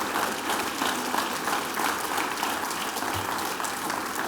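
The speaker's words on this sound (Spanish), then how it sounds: "aplaudamos eso, afirmemos eso" Congregation applause in a church service, a steady wash of clapping from many hands that fills the space evenly and continues throughout without a break.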